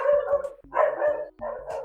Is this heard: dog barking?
yes